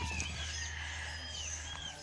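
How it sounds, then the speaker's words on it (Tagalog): Chickens clucking on a rural property, several birds giving soft scattered calls at a moderate distance over a low steady hum, with no talk. "grabe daghang manok dadto."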